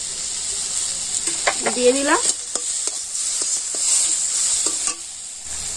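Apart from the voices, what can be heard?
tomatoes and ginger being stirred and frying in a pan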